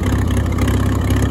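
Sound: Farmall tractor engine idling

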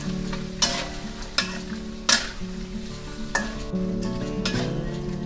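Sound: stirring banana chips frying in butter in a pan

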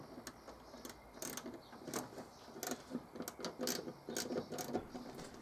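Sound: tightening nuts on Morris Minor fuel pump

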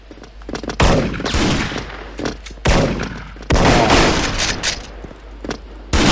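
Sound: gunfire in a Special Force video game

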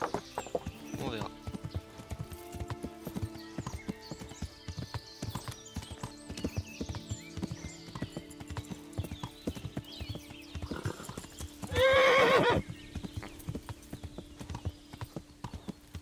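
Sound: horse hooves clip-clop, from video game Kingdom Come Deliverance

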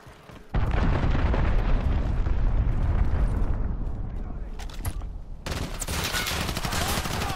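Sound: cruise missile explosion in a video game (Modern Warfare)

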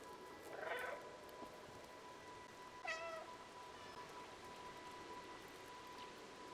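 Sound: cat meowing in the video game Stray

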